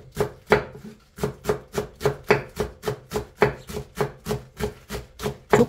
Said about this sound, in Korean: 쪽파는 이렇게 쫑쫑 썰어주면 되고요.